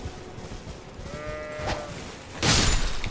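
Sheep bleating in the video game Elden Ring, a wavering bleat in the middle of the clip over a low ambient game bed, followed by a sudden loud burst of game noise near the end.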